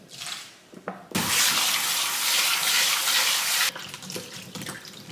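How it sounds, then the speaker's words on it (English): Water gushes from a kitchen tap as produce is rinsed in a bowl: a steady, close rush for a few seconds, framed by quieter handling noises before and after. "add some vinegar and water and just let them soak for a little bit to clean them off"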